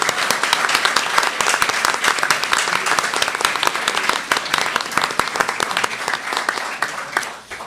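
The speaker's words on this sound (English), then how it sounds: "Let's have one last round of applause for all of our fine candidates up here." Loud, sustained applause from a debate audience for Montana Democratic Senate primary candidates, a thick continuous roar of many hands that tapers near the end.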